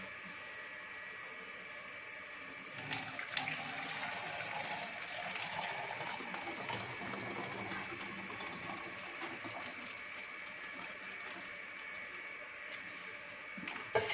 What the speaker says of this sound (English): Now we fill the bottle with the hot water.